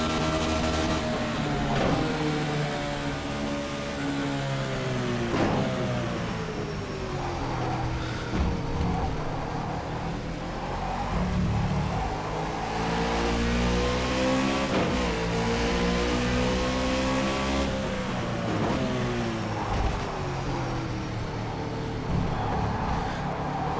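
Race car engine in the rFactor 2 driving simulator, revving hard and steadily through the gears with rising and falling pitch sweeps and occasional tire squeal, loud and continuous throughout.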